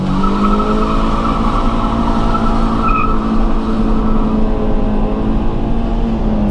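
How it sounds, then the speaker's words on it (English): A car engine revs hard in first gear with wheels spinning and a slipping, worn-out clutch, a loud continuous roar with a steady tire-squeal whine running throughout and no talking. "revving the motor"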